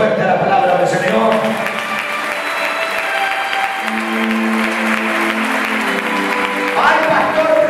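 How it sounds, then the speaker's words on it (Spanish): Church congregation clapping loudly after a preacher's call during a Spanish-language sermon, sustained applause from the room with voices and some cheering mixed in throughout. "¿Cuánto le aplaude fuerte la palabra del Señor?"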